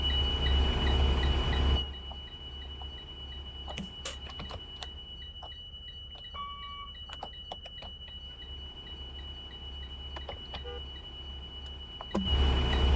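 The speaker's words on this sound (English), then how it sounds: "my back door alarm won't shut up" A bus back door alarm beeps steadily in a regular, evenly spaced pattern over a low idling rumble, with a few sharp clicks and knocks in between and heavier engine noise at the start and end.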